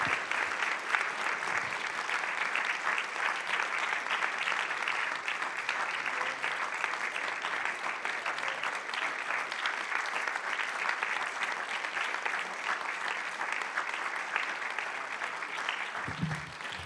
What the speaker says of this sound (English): let's give 5-6 Siva a big round of applause